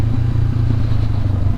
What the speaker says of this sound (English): right now I'm using all the engine braking right now